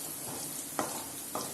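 Onions sauté in a pan for a fish curry, a steady close sizzle broken by two short scraping stirs.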